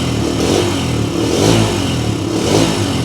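A 2024 Bajaj Freedom 125 motorcycle engine running on petrol, revving loudly and close up in steady swells with a mechanical clatter underneath.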